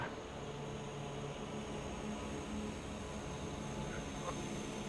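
An aircraft taxis in a flight game, a steady broadband engine hum and hiss with faint tonal whines holding at an even level throughout.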